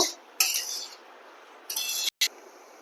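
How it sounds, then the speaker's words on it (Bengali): Metal utensil scraping and clinking in a pan of fried bitter gourd, in two short bursts of stirring followed by a brief clatter, close and fairly loud with no talk. "উচ্ছেটা দিয়েও আমি আরো দু তিন মিনিট এটাকে নেড়েচেড়ে রান্না করব"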